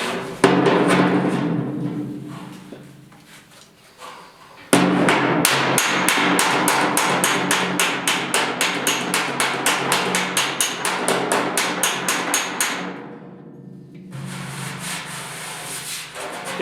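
A body hammer and dolly work a sheet-metal box side panel on a 1972 Ford short box 4x4 truck, starting with scraping and rubbing, then a rapid run of close, bright metallic taps, followed by more rubbing.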